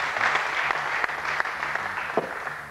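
An audience at a live concert applauds a singer's entrance, a brief patter of clapping that is fairly thin and tapers off toward the end.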